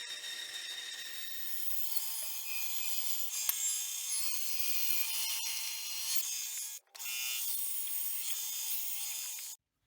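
Bandsaw cutting out metal pieces for a handlebar sat nav mount, a steady bright whine and rasp up close with one brief break before the cut resumes and then stops.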